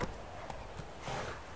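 Roach the horse gallops in The Witcher 3, hooves thudding in a quick, muffled rhythm under a soft game soundscape, faint and brief.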